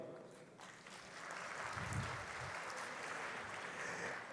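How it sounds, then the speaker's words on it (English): Faint applause from a crowd, a soft wash of clapping that swells and holds steady, heard at a distance. "An applause to all of you."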